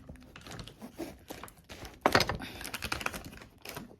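A knife cuts a pomelo in half with a series of soft crunching, tapping cuts, then a louder burst of crisp cracking as the thick rind gives way, close and with no talk.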